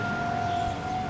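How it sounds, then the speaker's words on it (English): A distant tornado siren wails with a steady, sustained tone during a monthly test, over quiet background noise. "I guess the tornado sirens are going off"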